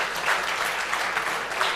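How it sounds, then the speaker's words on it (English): Steady applause from an audience, dense clapping filling the whole moment at an even level. "Please give her a big round of applause."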